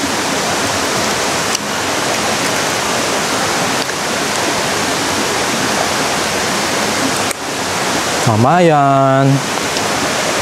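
Balagbag Falls roars with a loud, constant rush of falling water, a steady wash of noise from start to finish, briefly joined near the end by a voice.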